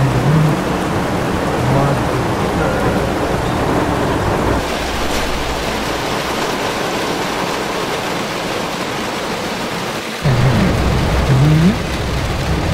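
Heavy rain pours down in a loud, continuous hiss, with deep rumbles underneath that suggest thunder, during a violent summer rainy-season storm in Minas Gerais, Brazil.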